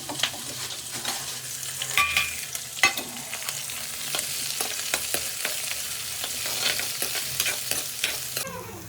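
Green chillies frying in a mustard-seed tempering, a steady close sizzle with dense popping crackles and occasional utensil clinks against the pan, no one talking.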